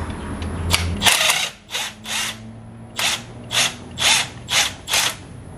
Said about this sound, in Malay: Sekali lagi saya pakai right angle impact